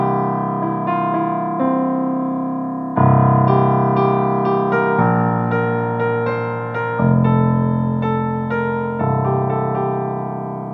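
Piano plays a song with both hands, a steady bass line under a repeating right-hand figure, with loud new chords landing every couple of bars; clear, close and alone without any voice.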